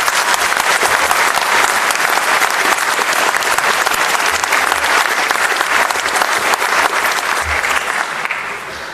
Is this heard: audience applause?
yes